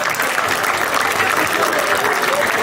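A crowd at the presentation of the Don Carlo Misilmeri 2022-2023 football team gives a loud, continuous round of applause, thick overlapping clapping with no gaps.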